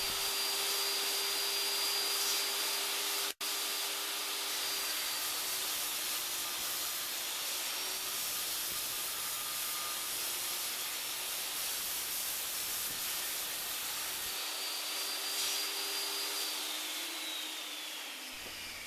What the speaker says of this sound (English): On the table saw, set the fence 1 5/8 of an inch to the inside of the blade and make your cuts.